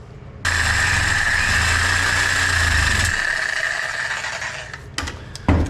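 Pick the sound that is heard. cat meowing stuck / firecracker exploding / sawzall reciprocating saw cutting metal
sawzall reciprocating saw cutting metal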